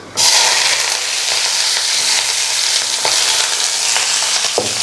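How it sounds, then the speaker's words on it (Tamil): Onion, garlic and green chili sauté loudly in a pan over a high flame, a dense, steady sizzle running throughout with occasional scrape of a stirring spoon. "ஹை ஃப்ளேமில் தான் வச்சு வதக்கிட்டு இருக்கோம்"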